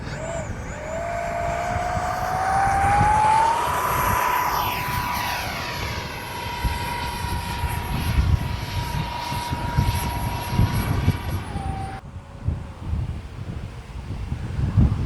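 An X-Fly F-22 Raptor RC jet with twin 40mm ducted fans flies overhead with a loud, continuous whine. The whine rises in pitch and then holds steady as it passes, with wind noise on the microphone and the fan sound shifting near the end.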